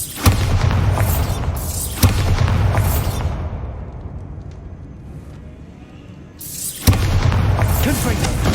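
The Bombarda spell in Hogwarts Legacy sets off explosions: three loud, deep booms, each with a sharp onset and a rumbling tail. A quieter stretch lies between the second and third blasts.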